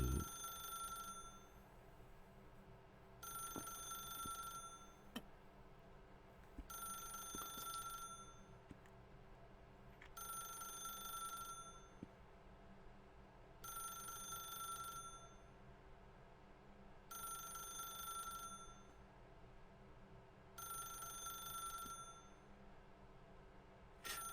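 A telephone in The Stanley Parable rings in steady, evenly spaced bursts of trilling bell tone, repeating about seven times over a low background hum with no talk.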